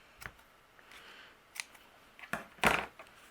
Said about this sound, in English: I'm going to trim the tails here.